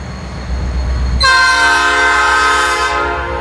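A Norfolk Southern freight train heading into a rail yard in Columbia, South Carolina sounds a loud, sustained multi-tone horn that starts abruptly and holds for about two seconds over the rumble of the passing cars.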